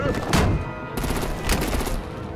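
Gunfire in the Batman: The Enemy Within video game, a dense, loud burst of rapid shots in two waves with a brief lull between, layered over a steady battle din.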